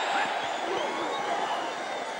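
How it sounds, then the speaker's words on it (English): Freezing football fans in a stadium crowd at a Dallas Cowboys game give scattered applause, a steady, distant crowd wash with murmuring and no clear individual claps. "The freezing fans try to stay warm with some applause for that play."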